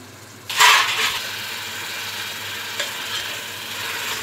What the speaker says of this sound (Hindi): अब मसाले को थोड़ा सा भून लेंगे।